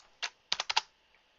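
A computer keyboard tapped in a brief burst: one keystroke, a pause, then four quick close clicks against a quiet background.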